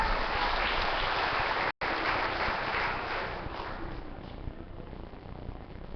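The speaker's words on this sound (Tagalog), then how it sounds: "Pumalakpak nga ang nakipagtotoo sa oras na ito." A church congregation claps together in sustained applause, a dense wash of many hands heard at a moderate distance, with a brief break partway through before it tapers slightly.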